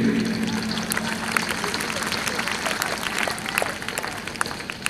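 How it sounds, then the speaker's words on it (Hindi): Steady applause from a crowd at a school Independence Day celebration fills the space, a dense patter of clapping hands continuing throughout with a faint low hum underneath. "विगत बच्चों के लिए ताली तो जरूरी है"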